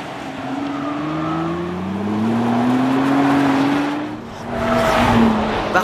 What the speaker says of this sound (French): Au point de corde, l'auto va glisser légèrement des 4 roues lors de la réaccélération, sans jamais perdre le cap pour autant.